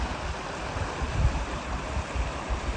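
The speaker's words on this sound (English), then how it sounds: "And this is the Salt Creek." Salt Creek flows out of a stone culvert along an abandoned canal, a steady close rushing and gurgling of water with low rumbles from wind on the microphone.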